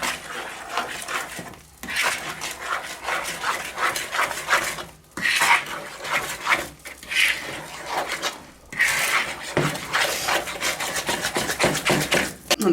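A spoon scrapes and stirs flour into cake batter in a bowl for a lemon drizzle cake, a close, gritty rubbing in repeated strokes with short pauses between them.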